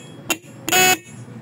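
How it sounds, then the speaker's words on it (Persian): A bicycle horn wired to a computer power supply sounds two loud, harsh buzzing blasts: a short one, then a longer one of about a quarter second. "اینم از تست صدای این بوقه بود."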